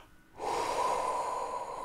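After a brief quiet moment, a deep, steady breath flows close to the microphone during a meditation and holds evenly to the end.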